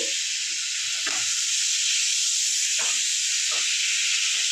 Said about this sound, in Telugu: సో ఈ బటర్ అంతా ఈ ఆయిల్లో అయితే మొత్తం మెల్ట్ అయిపోవాలన్నమాట కరిగిపోతుంది